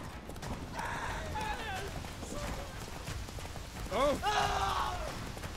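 Roach the horse galloping through rain in The Witcher 3, a steady patter of hooves under falling rain, with voices speaking over it.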